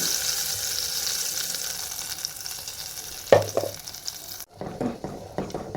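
Masala paste for a fish fry sizzling in very hot oil, a steady hiss with a sharp clack midway, then the sizzle drops to softer crackles and stirring.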